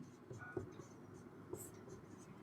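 Faint scratching of writing on a board during a math lesson, with a couple of light taps as strokes begin, soft and close.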